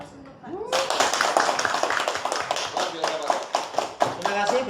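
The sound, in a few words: audience applause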